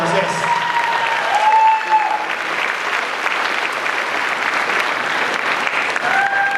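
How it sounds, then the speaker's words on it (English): Audience applause at a cosplay contest, steady clapping from a sizable crowd that fills the whole stretch at an even loudness, with some talk mixed in. "Give her a round of applause, guys."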